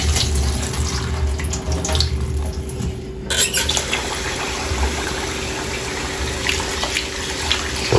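Tap water runs steadily into a sink as something is rinsed under it, a continuous close splashing stream with a brief dip partway through and no voices.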